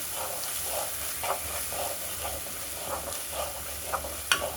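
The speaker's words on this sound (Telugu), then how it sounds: "అల్లం వెల్లుల్లిపాయ మొత్తము స్మెల్ పచ్చివాసన వెళ్ళేదాకా వేయించుకోవాలి" Ginger and garlic frying in a pan for an eggplant masala curry give a steady sizzle and hiss, with occasional stirring scrapes and light taps throughout.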